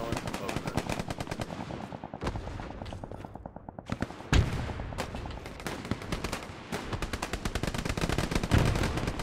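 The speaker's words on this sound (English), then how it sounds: "Now we got all the guns going." Rapid machine gun fire rattles almost without pause in Hell Let Loose, with heavy artillery booms breaking through now and then, a dense, steady battlefield din.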